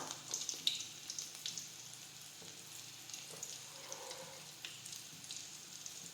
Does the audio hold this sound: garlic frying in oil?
yes